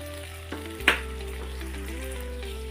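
Tomato and onion pieces frying in a pan while being stirred, a steady close sizzle with a sharp clink of the spoon early on and a low hum beneath.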